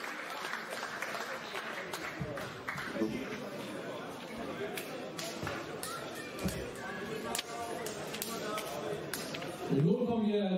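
Spectators at a German club wrestling bout applaud a competitor, a moderate spread of hand clapping with light chatter, while an announcer talks over the hall through a loudspeaker.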